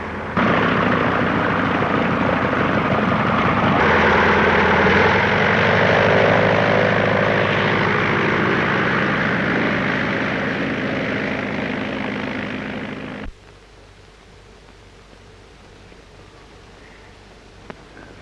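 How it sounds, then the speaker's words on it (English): A propeller airplane of the early 1930s drones loud and close overhead, a steady engine roar that holds for about thirteen seconds and then cuts off sharply, leaving quiet. "Get the number of that plane."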